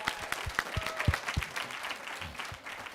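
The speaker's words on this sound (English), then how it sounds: "Give him a round of applause." Conference audience applauding, a spread of scattered hand claps at moderate distance that gradually thins out toward the end.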